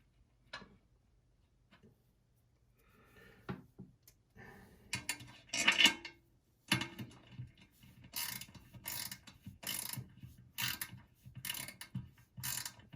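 A ratchet wrench clicks in quick repeated bursts while snugging bolts evenly, the metallic ratcheting starting faint and growing louder and denser toward the end, with no talking.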